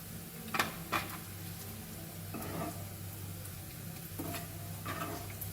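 Finely cut pork frying in its own rendered fat for Goan sorpotel, a quiet steady sizzle with a few sharp clicks and scrapes of stirring in the pan.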